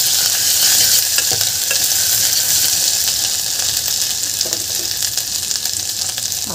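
A ginger, garlic and chilli paste with cumin sizzles loudly and continuously in a hot pan, with scraping and clinking from the stirring spoon, close up and with no one talking.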